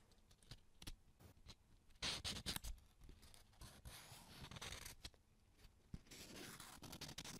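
A pen writing out a magic trick prediction by hand, quiet close scratching strokes with soft paper rustles and taps, no talking, fairly faint throughout.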